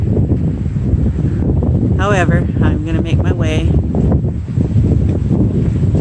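Strong gusty wind at the beach buffets the microphone with a constant low roar, and someone speaks briefly partway through over the noise.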